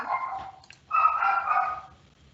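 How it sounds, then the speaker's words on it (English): A dog barks and yelps a couple of times nearby, short sharp bursts separated by a brief pause. "if you hear the barking dogs"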